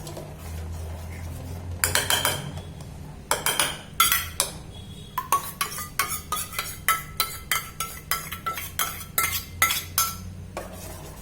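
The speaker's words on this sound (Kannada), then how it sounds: "ನೋಡಿ, ಇದಕ್ಕೆ ಒಗ್ಗರಣೆ ಹಾಕ್ತಾ ಇದ್ದೀನಿ." A spoon clinks and scrapes against a metal pot as tempering is stirred into brahmi leaf tambuli, sparse knocks at first, then a quick run of regular close clinks.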